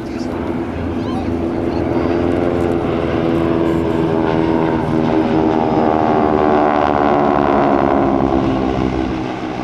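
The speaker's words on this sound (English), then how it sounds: "here come the Harvards. Look how gorgeous these airplanes are. Nice tight formation." Harvard trainer propeller aircraft in tight formation drone overhead at an airshow, a steady rumbling engine roar that swells and shifts in pitch as the planes pass, with people talking underneath.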